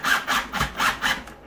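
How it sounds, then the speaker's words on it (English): Screws being driven into 3D printed plastic R2D2 legs, four rhythmic grinding strokes close by with a rough, rasping texture. "And I can concentrate on screwing these in."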